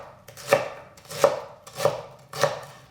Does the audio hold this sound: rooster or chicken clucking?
no